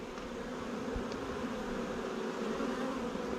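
Honey bees on a lifted hive frame make a steady, close, even buzz with no break and no voices.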